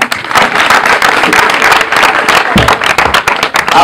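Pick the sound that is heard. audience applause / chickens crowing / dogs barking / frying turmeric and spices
audience applause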